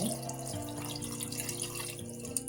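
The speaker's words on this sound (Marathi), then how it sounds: "कुकरमध्ये पाणी घ्यायचं आहे." Water runs steadily into a pressure cooker, a continuous gentle flow with a faint ringing hum beneath it.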